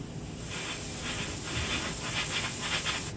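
An airbrush sprays paint onto a General Electric model locomotive, a close, steady high hiss of air with soft pulsing surges as it is worked over the angles, continuous and without talk.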